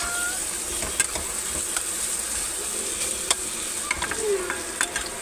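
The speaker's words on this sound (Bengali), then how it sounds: "গায়ে গায়ে ভালোভাবে নেড়ে নেড়ে ভেজে নিচ্ছি" Onion and ginger-garlic paste fry in a pan for a prawn malai curry, with a soft continuous sizzle and scattered sharp ladle clicks and scrapes as the mixture is turned over and over.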